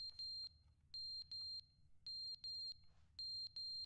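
A smoke detector chirps repeatedly with sharp, high electronic beeps in close irregular bursts, signalling a low battery, over a soft low background hum with no talking.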